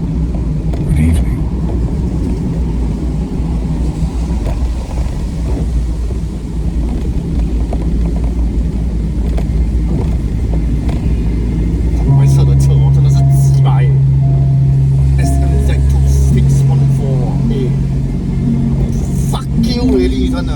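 A car drives through road traffic with a steady low engine rumble and wind buffeting, a louder engine surge joining midway while people talk over it.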